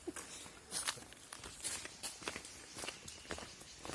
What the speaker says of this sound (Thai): เราก็เดินไปเรื่อยๆนะครับ